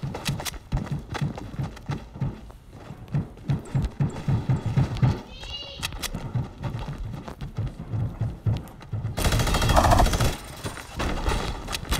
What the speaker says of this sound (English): somebody got some minigun.